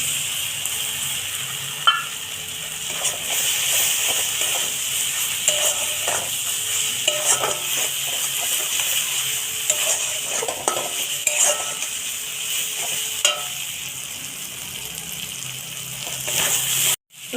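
Ghee added to a crab curry in a pan, with continuous stirring and scraping of a utensil against the pan over a low frying sizzle and scattered clinks.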